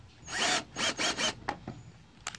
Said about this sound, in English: just drill into it.